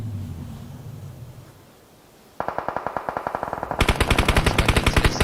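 Rapid video game gunfire bursts out after a stretch of low rumble, first a steady rattle of shots, then a louder, sharper volley repeating evenly.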